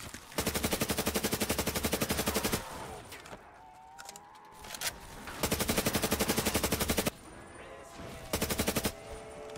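Automatic weapon fire from Black Ops 3 custom Zombies on the Sky map comes in long rapid bursts, loud and close, separated by quieter gaps with faint game sounds.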